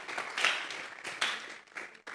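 A church congregation claps during a Spanish-language sermon, a quick run of hand claps in several uneven, moderately loud bursts.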